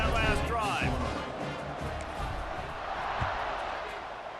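A stadium crowd in EA Sports College Football 26 roars continuously and loudly as a dense wash of cheering, steady throughout with a faint whistle-like sweep early on.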